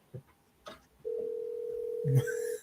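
Single long telephone ring tone, steady and fairly loud, holding for about a second and a half before a brief thump as an outgoing call to a home seller connects.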